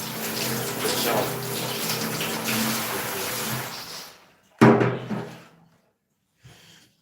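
A shower runs in a steady, hissing stream for about four seconds, then stops, followed by a loud knock or clunk and a brief faint thump.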